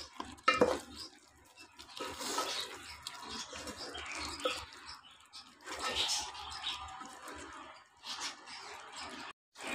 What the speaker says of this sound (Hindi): इसको भी खूब अच्छी तरह मिक्स करेंगे भूनेंगे इसको खूब